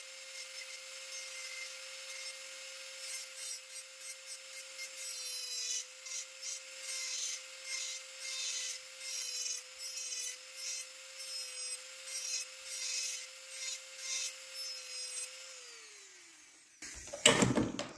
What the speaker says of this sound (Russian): Понимаете, да, что пластик не очень пилить?